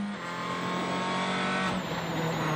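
In-car view of a WRC rally car running flat-out on smooth tarmac at the 2010 Bulgaria rally, giving a continuous loud, high-revving engine roar with gear shifts and road rush, close and unbroken.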